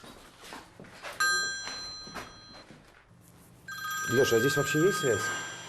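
A cell phone rings in Pripyat, the abandoned Ukrainian ghost town near the nuclear power plant, its bright electronic tone sounding in two bursts, close and clear, with voices talking around it.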